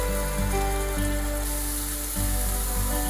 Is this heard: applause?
no